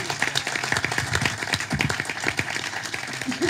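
Applause at a press conference for Italian mayoral candidate Vita Ippolito, a dense, even patter of many hands clapping steadily throughout, moderately loud and close.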